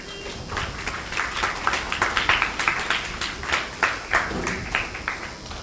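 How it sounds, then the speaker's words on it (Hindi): An audience at a spiritual talk bursts into steady applause, many hands clapping together in a dense, sustained patter that swells slightly and then carries on evenly. "ताली बजाओ।"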